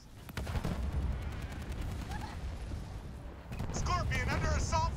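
Enemy ground forces fire on a Scorpion tank in the Halo Wars 2 video game. Rapid gunfire and heavy blasts roll on continuously, with a voice speaking near the end.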